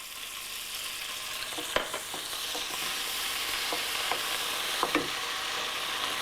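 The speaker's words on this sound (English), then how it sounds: "You need to put it on high flame, absolutely high flame, and keep stirring it constantly." Red chilies and Malaysian sambal sauce sizzle in a pan over high flame while being stir-fried, a steady close hiss broken by several sharp scrapes and clacks of the stirring utensil.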